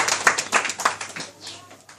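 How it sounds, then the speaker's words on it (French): A congregation at a night prayer vigil applauding, a steady stream of hand claps from many people in a reverberant hall, with voices mixed in among the clapping. "Applaudissez."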